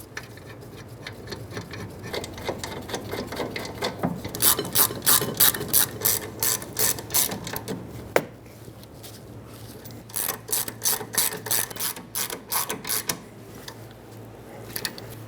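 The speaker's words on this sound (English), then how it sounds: "Slide the caliper and the pads over the rotor and start in the 2 bolts." Ratchet clicking as caliper bolts are run in on a 2012-2018 Nissan Altima rear brake, close and crisp, coming in quick repeated bursts with brief pauses and a sharp metallic knock midway, no voices.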